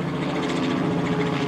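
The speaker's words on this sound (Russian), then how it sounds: "Вон там вертолет, смотрите." A sightseeing helicopter passes overhead at a distance, giving a steady, fairly faint rotor drone with a soft rhythmic thrum that holds throughout, with no talking.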